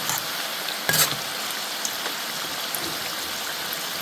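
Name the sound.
samosas deep frying in oil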